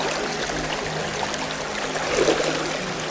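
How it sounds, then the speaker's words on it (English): Water splashes and trickles steadily as it is tipped out of a gold pan beside a river in Arrowtown, New Zealand, with a slightly louder pour near the end against constant stream noise. "Tip the water out"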